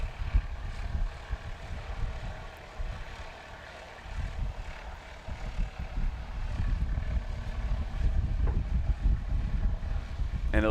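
Wind gusting steadily across an open airfield during short-takeoff practice, a continuous low rumbling roar that swells and eases, with a distant aircraft engine drone underneath.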